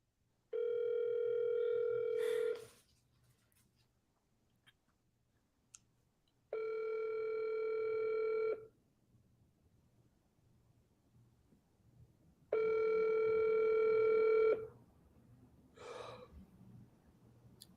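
Telephone tone while calling someone: three long, steady electronic tones of about two seconds each, separated by roughly four-second gaps, with faint breathing and a brief rustle in between.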